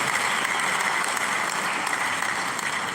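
Steady, dense round of audience applause at a student loan sensitization programme for tertiary institutions, many hands clapping continuously at an even volume throughout.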